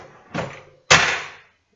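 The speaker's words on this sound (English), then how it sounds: "And now the front's clicked down." A Home Depot drawer front clicks into place on its slide during installation, heard as two close, solid clunks about half a second apart, fairly loud with no talking.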